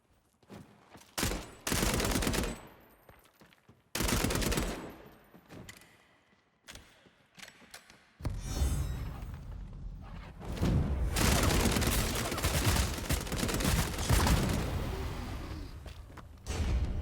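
Gunfire in the video game Bloodhunt: loud, sharp volleys and bursts separated by short gaps, giving way to a dense, sustained stretch of rapid shots and booms with no talk.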